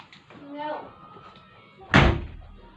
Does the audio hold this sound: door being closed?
yes